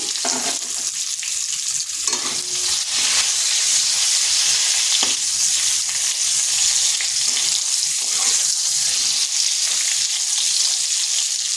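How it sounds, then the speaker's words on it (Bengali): Pointed gourd fries in hot oil with turmeric and salt while being stirred, a loud, constant close sizzle with occasional scrapes of the spatula against the pan. "পটলটাকে এইভাবে নেড়ে চেড়ে একটু ভেজে নিচ্ছি"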